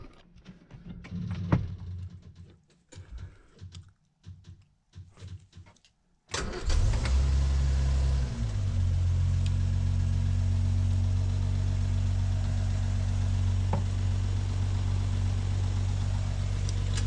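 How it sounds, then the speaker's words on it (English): 1967 Land Rover Series IIA 109 cold-started after weeks unused: several halting starter cranks and clicks, then the engine catches and settles into a loud, steady, rumbling idle close by, with no talk. "Okay, cold start video. 1967 Land Rover."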